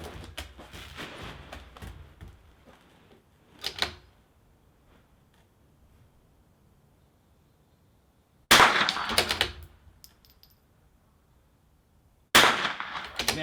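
Three loud, sharp rimfire rifle shots crack at a windy NRL22 precision shooting match on an outdoor range, widely spaced, each with a brief ringing tail and quiet wind-blown gaps between them.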